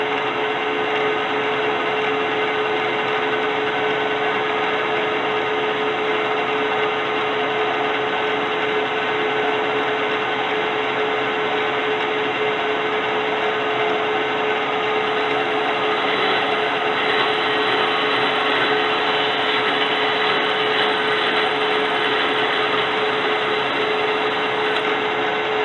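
A K&T Model 2D rotary head mill plunge cuts into brass, giving a loud, steady machine drone with a constant motor whine and a grinding cutting hiss that runs unbroken and alone.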